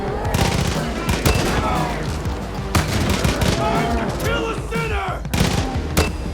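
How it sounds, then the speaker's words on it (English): Rapid bursts of gunfire and explosive impacts from a spade launcher and other weapons in the video game Far Cry, dense overlapping shots and booms continuing throughout. "it was time to terrify my enemies with a special launcher instead. A spade launcher."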